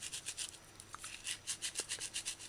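Rosemary being ground fine by hand, a rapid rhythmic rasping and rubbing, quiet and close, repeating in quick strokes without voices.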